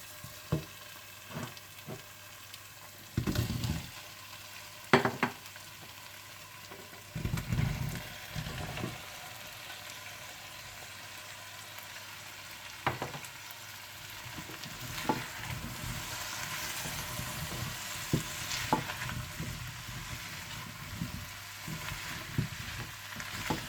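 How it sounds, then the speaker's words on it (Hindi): Potatoes and cauliflower frying and being stirred in a tomato masala for aloo gobi, a steady close sizzle throughout with repeated scraping stir bursts. "तो आप इसमें आलू और गोभी डालकर थोड़ा सा भून दें।"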